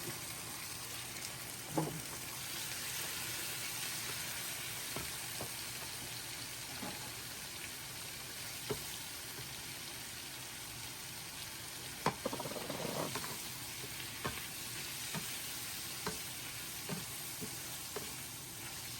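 Squid fries in hot sesame oil in a pan, giving a steady, soft, continuous sizzle with occasional clinks and stirring sounds.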